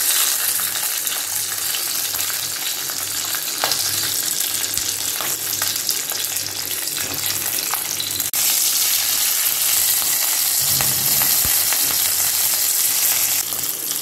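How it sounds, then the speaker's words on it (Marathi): Whole bell pepper (capsicum) fries in a pan, a loud, steady sizzling hiss with spatula scrapes and small pops throughout, no voices. "ढोबळी मिरची सर्व बाजूने छान फ्राय करून घ्यायची आहे."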